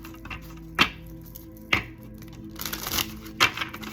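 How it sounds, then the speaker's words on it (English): A deck of oracle cards is shuffled by hand, with four sharp crisp snaps of cards striking together spaced about a second apart, between softer rustling and sliding, close and fairly quiet. "It shuffles really well. Let me just show you really quick."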